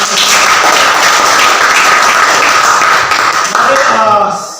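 A classroom of students gives a sustained burst of applause for the presenting groups, dense steady clapping that fills the room and tapers slightly near the end.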